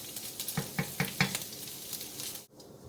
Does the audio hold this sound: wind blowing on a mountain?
no